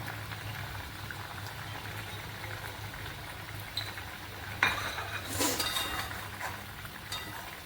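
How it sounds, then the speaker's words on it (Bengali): A pot of dhokar dalna, a curry of chana dal cakes, bubbles at a gentle simmer with a soft continuous burble, broken by a few faint clinks of utensils against the pot. "আরও 1 মিনিট এটা ফুটুক, 1-2 মিনিট।"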